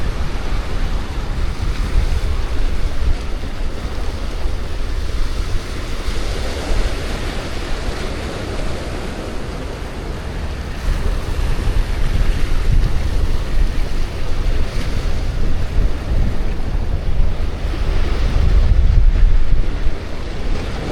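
Continuous crashing surf and rolling ocean waves at the jetties in Freeport Surfside fill the scene, loud and broadband, with gusty wind buffeting the microphone throughout and no voices.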